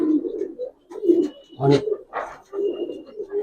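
Giribaz pigeons at a loft give soft, low, rolling coos in several short phrases, close and fairly quiet, with a brief spoken word mixed in.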